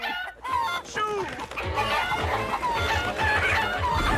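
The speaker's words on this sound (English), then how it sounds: "Not sure why there's a huge chicken coop there" Chickens cluck and squawk busily in the video game Crash Twinsanity, a dense, continuous flock chatter with a crowing-like call mixed in, loud and close over game noise.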